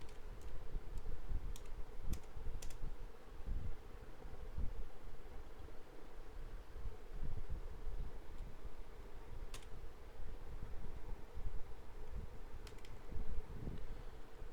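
Light clicking keystrokes on a computer keyboard come in short irregular bursts and isolated taps, faint and close over a steady background hiss, with no talking.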